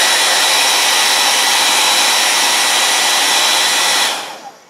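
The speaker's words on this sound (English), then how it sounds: "Take your hairdryer and we're going to dry just in the very center so it will stick." A hair dryer blows loudly and steadily at close range, then switches off near the end and its whoosh quickly dies away.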